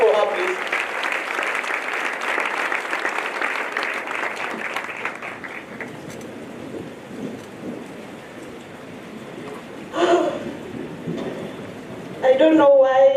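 An audience at a leadership congress claps steadily for several seconds, then the applause thins out; a few voices and short sounds follow near the end.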